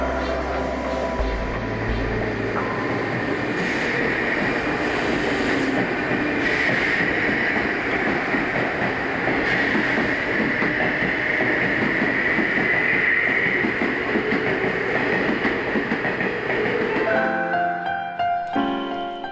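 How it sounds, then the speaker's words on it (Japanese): A Chuo Line rapid commuter train rolls into Kanda Station in Tokyo with a loud rumble and rising wheel screech, braking steadily before coming to a stop, close by and unaccompanied by voices. "東京駅を出て数分後、列車は神田駅へと到着する。"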